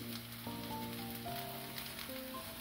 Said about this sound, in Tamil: நல்லா ஃப்ரை ஆக்கிறோம்